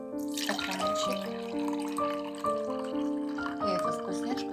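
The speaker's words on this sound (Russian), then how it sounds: "Наливаем в стаканчик." Birch sap, collected in early April, is poured from a jar into a small glass, making a close, steady trickle whose pitch rises in a bright ringing tone as the glass fills, with a brief pause and resumption.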